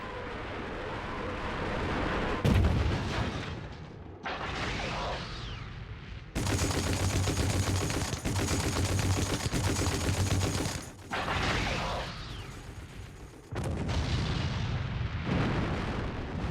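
Russian rocket launchers and artillery fire in a war documentary: dense roaring salvos, booming blasts and crackling barrages, loud and close, alternating between sustained rushing volleys and heavy single detonations.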